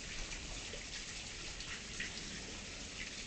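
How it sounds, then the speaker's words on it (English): Light rain patters steadily on surfaces just after a thunderstorm in Tulsa, Oklahoma, a soft continuous hiss with scattered faint drips, no voices. "It is barely raining now"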